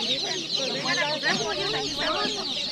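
A crowd of chicks for sale at an open-air market in Tecomán, Mexico peeps constantly in high, overlapping chirps, close and busy, with no pauses.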